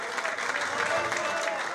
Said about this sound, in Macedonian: Еден аплауз за нашата легенда од Тетово